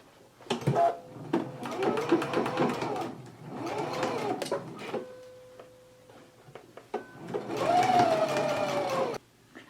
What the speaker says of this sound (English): let's go ahead and stitch the darts on the end of our pocket